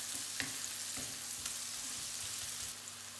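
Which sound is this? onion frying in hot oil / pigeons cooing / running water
onion frying in hot oil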